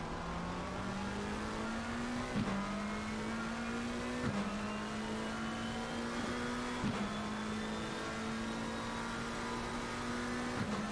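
GT race cars at Misano in a racing video game scream past, one engine climbing steadily through the revs with sharp upshifts roughly every two seconds, loud and continuous.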